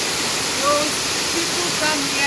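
Waterfall at Kwahu Bukruwa in Ghana, a broad constant roar of falling water close by, with someone speaking briefly over it.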